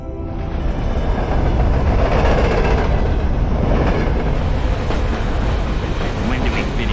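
Train rolling along the Strokhol Railway in cold northern Russia, from the Bolt video game on Xbox 360, a loud steady rumble with clickety-clack running throughout, under a voice.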